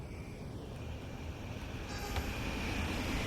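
A Flix train rushes past in Train Sim World 5 on the Kinzigtalbahn line near Frankfurt, a loud continuous rumble and rail roar with a faint distant horn tone.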